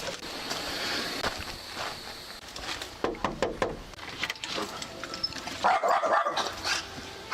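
A dog barks repeatedly, close and loud, in short bursts amid outdoor background noise, with a sharper flurry of barks toward the end.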